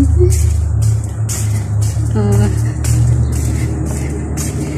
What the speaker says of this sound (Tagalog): Maingay ang kalsada. Maingay yung mga sasakyan.